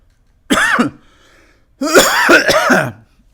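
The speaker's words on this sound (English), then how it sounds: "I'm going to cough here and there." Two bursts of coughing separated by a brief pause, close and loud, the second bout longer with several rough hacks in a row.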